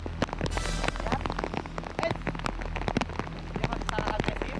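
Heavy rain falls in a forest, with dense, close drops pattering and spattering irregularly on surfaces, loud and continuous throughout.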